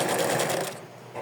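Sewing machine stitching the seam of a doll's small skirt, a steady fast whirring run that stops abruptly partway through, leaving a quiet pause before faint noise returns.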